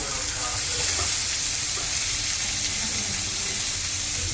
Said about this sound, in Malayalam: നല്ലോണം അങ്ങോട്ട് സോട്ട് ചെയ്യാം.